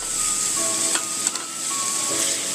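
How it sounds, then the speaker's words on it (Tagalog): Ground beef sautés with plenty of garlic in a pan, giving a steady close sizzle with light stirring scrapes and no talk. "pagkatapos nyan, gigisahin natin ang ating ground beef. So gisahin natin maigi."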